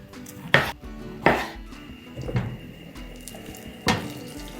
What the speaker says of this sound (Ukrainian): Тим часом підготую помідорки, наріжу їх кільцями.